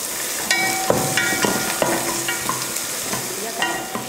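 Finely chopped garlic, ginger and curry leaves fry in hot oil for chole masala, with a steady close sizzle and repeated scrapes of a spoon stirring the pan.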